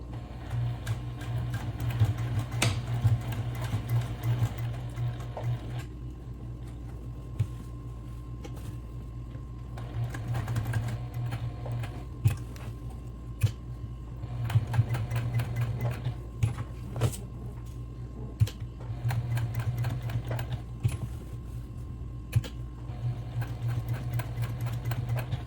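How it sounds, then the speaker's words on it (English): A sewing machine stitches fabric for an eco bag, its motor humming steadily with rapid needle ticking in bursts, pausing briefly between runs, close and without talk. "I'm going to start to sew."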